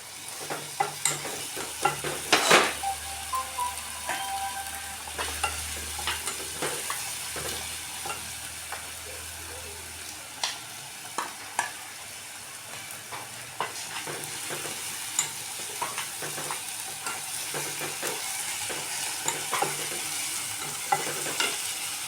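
Ginger garlic paste fries in a pan for chicken curry, giving a steady sizzle with repeated spatula scrapes and taps at an irregular pace, close and fairly loud, no voices.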